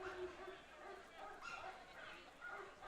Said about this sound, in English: piping in a lot of the barking sounds now